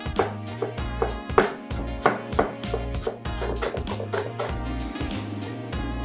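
A knife slices through bunched spring onion and coriander on a board for raita, a steady series of crisp, close chopping strokes alone over a low rhythmic hum of background music.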